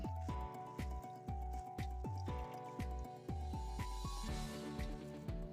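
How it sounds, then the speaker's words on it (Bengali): Soaked, washed bread is squeezed by hand, and the wrung-out water falls back in a quick series of dripping, splashing drops. The squishing sounds are soft and close, come in clustered bursts, and stand alone. "ব্রেডগুলোকে জল দিয়ে ধুয়ে নেব ও হাতের সাহায্যে চেপে জলটাকে বের করে দেব"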